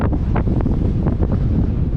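Strong wind of about 24 knots buffets a sailboat close-hauled at sea off Cape Verde, a steady roaring rush with gusty surges and splashing water throughout.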